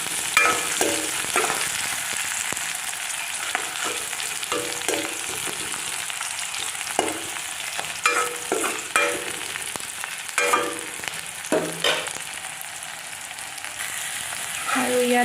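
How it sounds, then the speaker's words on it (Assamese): Chopped onions fry in a hot pan, giving a steady soft sizzle broken by repeated scraping and stirring clatter throughout. "আৰু এতিয়া মই ইয়াতে পিঁয়াজখিনি দিছোঁ। ভালদৰে আমি ভাজিম।"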